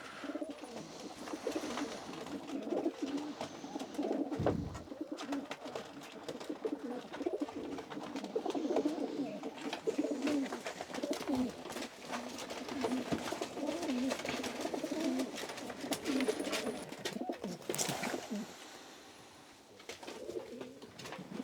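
Many racing pigeons coo steadily together in a cramped loft, a dense continuous murmur of overlapping low calls with occasional rustling and flapping close by, no talking.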